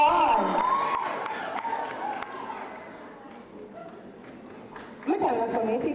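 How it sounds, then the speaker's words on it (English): A crowd cheers and shouts at the Spot Valley High valedictory service in 2023. The noise runs steadily beneath talking voices, eases through the middle and swells into a loud burst near the end. "Applause must go on."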